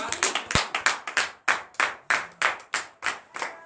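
A church congregation at morning prayer claps in sharp, rhythmic unison, a fast run of close hand claps with brief gaps between bursts.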